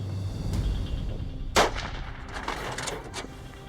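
A single loud rifle shot cracks out during a warthog hunt, followed by a fading outdoor echo over steady background ambience.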